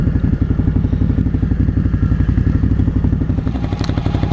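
A KTM 890 Adventure R Rally motorcycle rumbles steadily and close by throughout, its engine note a loud, even throb with some mechanical clatter and no talking.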